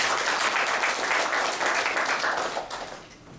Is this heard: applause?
yes